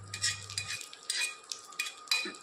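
About two spoonfuls of ghee going into a pan of mocha chingri and being stirred, heard as close metal spoon scrapes and clinks against the pan over a soft sizzle.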